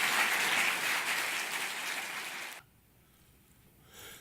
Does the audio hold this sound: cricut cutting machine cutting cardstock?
no